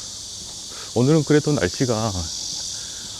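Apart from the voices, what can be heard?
cicadas loudly chirping outdoors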